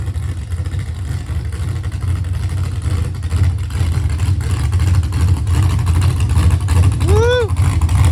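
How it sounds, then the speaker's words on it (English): A car idles and warms up after a multiport intake swap, its steady low engine rumble filling the whole clip at close range, with a brief rising whistle-like tone near the end. "we made it over to Dustin's and we're letting the car warm up"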